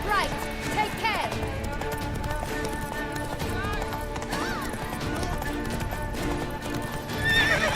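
A horse gallops in The Witcher video game, steady clip-clop hoofbeats continuing under game music and effects, with a whinny-like sound and voices along the way.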